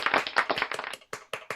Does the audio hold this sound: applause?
yes